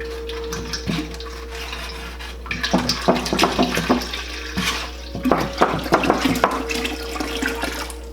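A gallon of water poured into a cooking pot while brewing ayahuasca, heard as a close, loud, continuous splashing rush with bursts of turbulence over a steady low hum and no voices.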